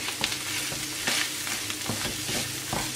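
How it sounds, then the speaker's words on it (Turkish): A soaked, swollen bulgur filling is stirred in a frying pan without tomato paste, a close, continuous sizzle with scraping spoon strokes and soft shuffling at a steady rhythm, no voices. "Onu da karıştırıyorum güzelce."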